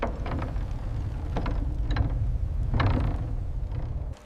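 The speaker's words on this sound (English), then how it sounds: "The Archimedes Screw, crafted from waterlogged timber, slowly churns the river water" A large waterlogged timber Archimedes screw turning slowly in a river, giving repeated deep wooden creaks and groans over a steady low rumble.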